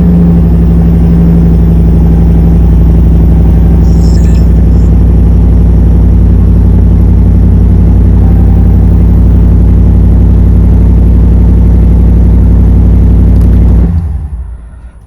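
A pickup truck engine runs steadily at idle, a loud, close, continuous low rumble that holds for most of the stretch before cutting off near the end.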